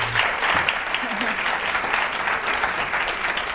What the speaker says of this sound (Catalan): Marc, amb aquest aplaudiment